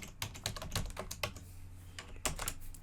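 Rapid typing on a computer keyboard, close and clear, in uneven bursts of key clicks with a short pause partway through.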